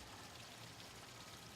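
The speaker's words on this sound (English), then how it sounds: "Water spills over the edge, raining down into a pool that surrounds the base." Water spilling over the rim of a wide, shallow fountain bowl on a pedestal and falling into the surrounding pool, a faint, steady splashing wash with no voices.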